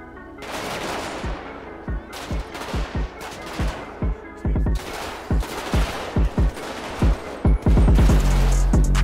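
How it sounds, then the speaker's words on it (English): Heavy gunfire in GTA V with the LSPDFR police mod during a shootout with the Mafia: rapid, loud bursts of shots crack in uneven clusters, thickening into near-continuous automatic fire toward the end. "How are you getting shot?"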